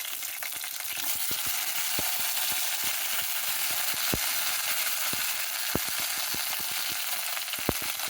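Slit okra frying in a hot pan, a continuous bright sizzle with scattered clicks and scrapes as it is stirred, steady and close with no talking.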